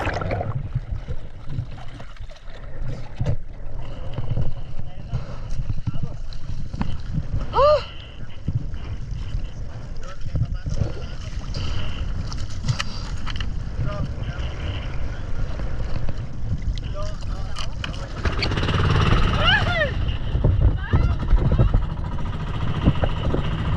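Small boat running on choppy open sea on the way home in the afternoon after a spearfishing dive, with a steady engine drone and wind and water wash throughout, and a voice heard briefly over it.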